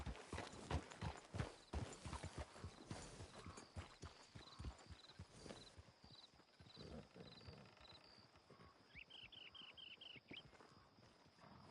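Rhythmic clip-clop of horse hooves in the video game Red Dead Redemption 2, in the town of Valentine, fairly close and steady at first, then fading to lighter steps, with a brief bright chiming tone near the end.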